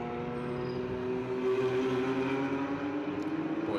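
GT4 race car powering out of a corner during a Pirelli GT4 America race at Virginia, its engine a steady, close droning roar whose pitch climbs toward the end as it picks up speed; no voices.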